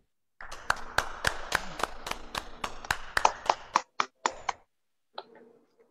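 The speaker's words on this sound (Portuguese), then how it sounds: "Uma salva de palmas, então, doutora Miriam." Applause for a doctor at a medical award ceremony, heard as a short run of sharp, evenly spaced claps that thin out and stop, with a faint trailing sound after a brief pause.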